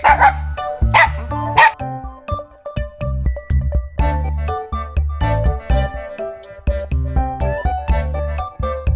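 A dog barks repeatedly while playing, in short bursts of yips and woofs scattered through the clip, with music-like tonal content underneath.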